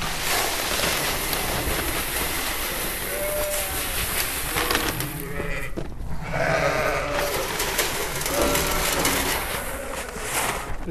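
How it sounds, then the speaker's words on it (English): Hungry in-lamb ewes bleat in a barn on a frosty January morning at feeding time, several calls rising over a dense constant rustle and shuffle of the flock, some near and some farther back. "it's a frosty January morning and the sheep are hungry"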